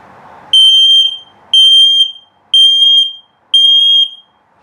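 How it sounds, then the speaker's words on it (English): Carbon monoxide and LP gas detector in a 2021 Keystone Bullet Premier 24RKPR travel trailer sounding its low battery alert: four loud, piercing electronic beeps at a steady one-second rhythm, each about half a second long, close and alone. "and then low battery alert."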